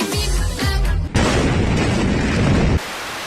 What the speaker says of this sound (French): Deux énormes explosions ont ravagé Beyrouth, la capitale du Liban, le 4 août